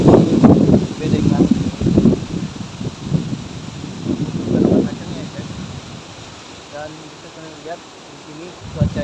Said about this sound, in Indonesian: Cuacanya angin kuat ekstrim